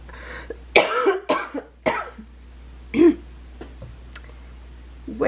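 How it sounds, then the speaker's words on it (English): A person coughs several times in short, sharp bursts separated by pauses, close to the microphone, with no talking. "excuse me for my cough."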